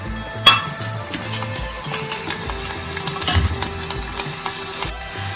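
Chopped garlic cloves sizzle and fry in hot oil for a Kathiawadi-style dahi tadka, a steady close crackle with a sharp clink near the start.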